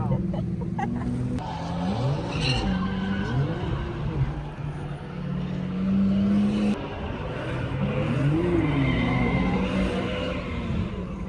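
A BMW E90 drift car on all-season front tires slides with wavering tire squeals rising and falling over a constant engine roar, the squeal swelling in several bursts across the run.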